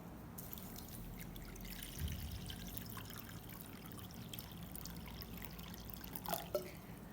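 Water is poured onto crushed garlic and neem leaves, a faint, steady trickle and splash running low beneath quiet room noise.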